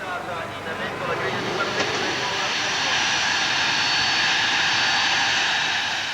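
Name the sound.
private jet aircraft flying in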